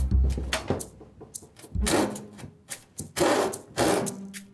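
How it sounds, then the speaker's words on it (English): A hand saw skipping and chattering across wood while trying to start a cut on the push stroke, heard as irregular rasping scrapes and bursts with brief pauses, close and fairly loud, no talking. "If you try to start cutting on a push stroke, this is what happens."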